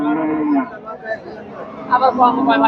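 A Friesian bull moos loudly at a busy cattle market, with long low calls up close and the hum of the crowd and voices around it.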